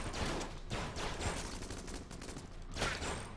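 Flash ray gun firing in the video game Enter the Gungeon: a continuous crackling electric burst that runs without a break, fairly loud and harsh, with a few brighter surges near the start and end.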